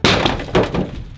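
Glass breaking on a new Honda work car in a car scrapyard: a sharp close smash followed by a second crash half a second later, bright shattering fragments tinkling off quickly.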